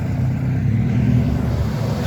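A Cobra sports car pulls away from an inn car park on New Year's Day, a steady low engine rumble that stays fairly constant and loud without distinct revving peaks.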